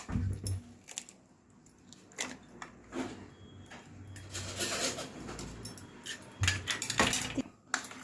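Chopped goat brain, onion and green chili are being beaten together with two eggs in a bowl, giving quick irregular clinks and scrapes of a utensil against the dish, close and fairly quiet.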